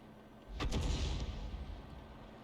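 Artillery gunfire in a World of Tanks-style tank game, fired from a 105 leFH18B2 self-propelled gun: one fairly distant, muffled shot with a short rumbling tail fading out.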